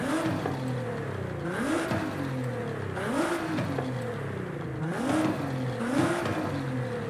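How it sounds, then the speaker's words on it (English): In Forza Horizon 5, a turbocharged car tuned with an upgraded exhaust and intake and nearing 400 horsepower revs up and falls back in several repeated cycles, giving a close, rising and falling engine growl with intake whoosh. "You can hear the extra induction sound, the growl."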